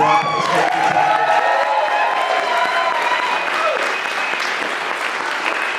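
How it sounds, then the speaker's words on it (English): Poetry slam festival audience applauding the volunteers, loud sustained clapping with cheers and whoops, a voice briefly audible at the start before the applause carries on steadily. "Also, please applaud all our volunteers."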